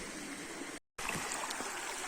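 A river flows in a steady, broad wash of water noise heard close by, with a brief gap of silence partway through.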